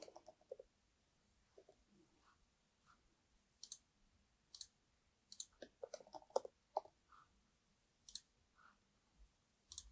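Several sharp computer mouse clicks ring out in a quiet room while a form is submitted, spaced irregularly between faint background sounds, close and crisp with no talking.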